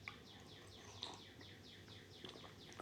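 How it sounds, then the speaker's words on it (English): Birds chirp in the morning, a quiet repeating series of short, quick chirps at a fairly regular rhythm, faint and somewhat distant over a low background hum. "I'm still thankful for the sound of the birds chirping"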